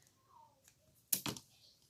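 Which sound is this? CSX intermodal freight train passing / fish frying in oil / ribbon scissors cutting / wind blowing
ribbon scissors cutting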